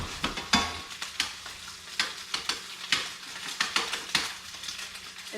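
Ramen noodles with egg fry and get tossed in a pan, a close, lively sizzle punctuated by rhythmic scraping and clattering of utensil against the pan roughly twice a second.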